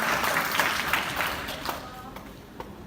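A church congregation applauds during a Sunday service, a dense wash of many hands clapping that stays fairly steady, then thins and fades toward the end.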